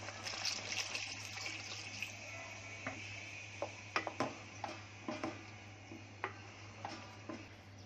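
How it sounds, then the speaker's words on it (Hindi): Water is poured into a pan of fried spices while cooking a Konkani pulao, a soft continuous pour with scattered small clinks and splashes over a low steady hum. "अब इसमें डाल रही हूँ पानी।"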